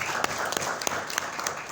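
Brief applause from the audience at a maternal and child nutrition program launch, scattered claps with a few sharper hits standing out, moderately quiet and short.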